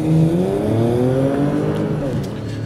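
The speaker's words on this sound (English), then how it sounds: "This is what launch control is doing on your Macan" A Porsche Macan S launching under launch control, its engine roaring loud and close as it revs and pulls hard through a rising acceleration, with a faint tire squeal and a sustained strong exhaust note.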